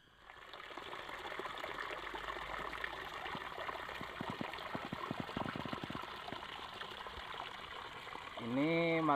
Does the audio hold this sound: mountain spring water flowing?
yes